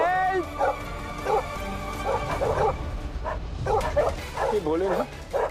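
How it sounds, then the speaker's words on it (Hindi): Dogs in a Hindi TV drama scene bark and yip in several short bursts, fairly close, mixed with whimpering, while a frightened woman pleads over them. "ये डॉगी तो मुझे काट लेंगे, मुझे ईट कर लेंगे। नहीं प्लीज प्लीज प्लीज भोको मत काटो मुझे।"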